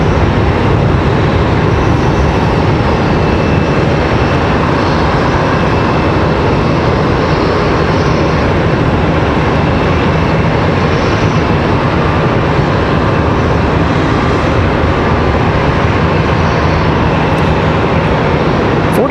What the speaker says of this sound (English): Next arrival over on the other side, American Airlines 3308 coming in from Nashville, Tennessee.